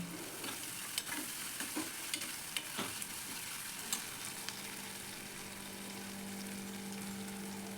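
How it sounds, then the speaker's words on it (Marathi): Onion fries in a pan for a Malvani jackfruit curry, giving a soft, steady sizzle with a few sharp stirring clicks early on, quiet and close. "कांदा आपल्याला चांगला गोल्डन ब्राऊन होईपर्यंत भाजून घ्यायचा आहे"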